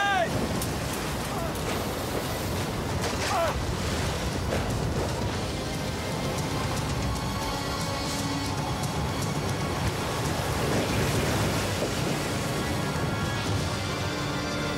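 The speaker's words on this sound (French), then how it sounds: "Finalement, les navires résistent à la tempête." A violent storm at sea batters a fleet of ships, with dense roaring wind and crashing waves filling the whole stretch continuously and loudly.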